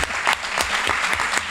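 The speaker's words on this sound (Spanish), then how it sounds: "vamos a aplaudirte porque no voy a hablar" Audience applauding at a round table of testimonies at a historical memory conference, steady dense clapping from many hands filling the room without a break, no voices standing out.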